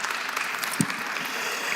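Applause from a forum audience at the close of a session at a Bucharest conference, a dense, even clatter of many hands sustained from start to finish.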